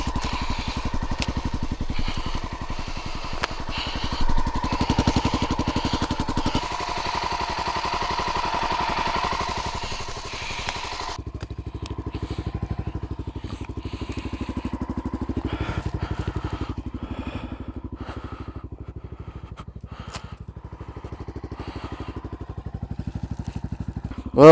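A motorcycle engine idles steadily while warming up on a cool morning at a solo campsite, a low continuous rumble that stays close and even throughout, with the background shifting slightly partway through.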